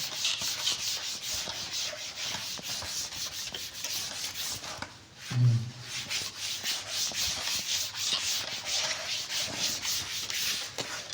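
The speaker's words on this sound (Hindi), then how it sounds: "आगे चलते हैं, इसको पूरे को ही रब कर देते हैं" A classroom board is rubbed clean in a steady back-and-forth scrubbing, loud and close, with a short pause about halfway before the rubbing carries on to the end.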